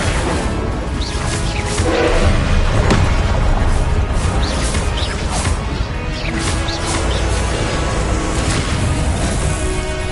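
Incendio fire spell cast in the video game Hogwarts Legacy, a loud continuous fiery rush with whooshing bursts and booming impacts over dense game sound, with some voice faintly mixed in.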